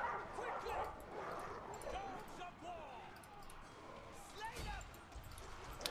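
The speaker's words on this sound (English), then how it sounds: "The dogs have all stopped on the corner," Barbarian war dogs barking and yelping in the Total War Arena video game, scattered dog barks and whimpers amid battle noise, with someone talking over them.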